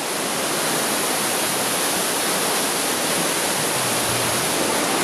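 Steady roar of a waterfall inside Scărişoara ice cave in Transilvania, Romania, a dense continuous rush of falling water heard up close and loud throughout, with no voices over it.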